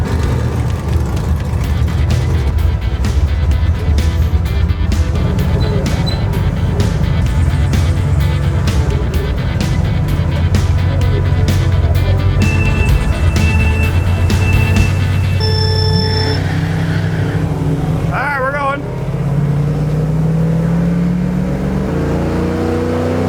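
A screen-used Mystery Machine van revs and accelerates hard down a drag strip, a loud, sustained engine roar with shifting pitch that stays dense and close throughout, easing briefly near the end.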